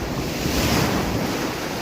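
Sea waves wash in under strong wind buffeting the microphone, a continuous roaring surf with a brief swell midway.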